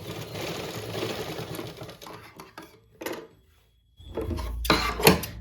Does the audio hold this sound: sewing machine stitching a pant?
yes